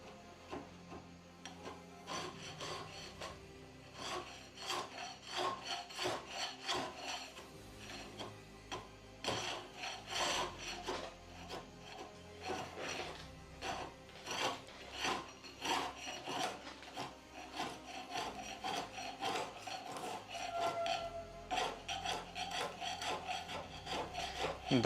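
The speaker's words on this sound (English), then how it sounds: "maybe I will try to scrape the most of it." Hand scraping of old paint from a wooden door under restoration: dense, continuous rasping strokes, close and fairly steady, repeated scrapes with occasional brief pauses and no talking.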